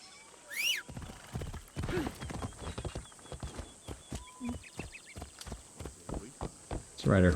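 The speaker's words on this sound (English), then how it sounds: "Let's ride our horse around." Hooves clop in a quick, steady rhythm as a horse gallops in the video game Assassin's Creed Shadows, with a whinny near the start and another at the end.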